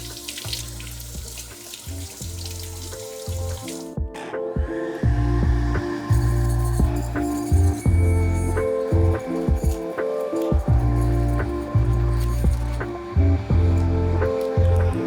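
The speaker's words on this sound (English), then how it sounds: "All right, let's juice some celery." A juicer pressing celery stalks runs with a steady low motor hum, while irregular grinding and crunching bursts rise and fall over it as the stalks are fed in.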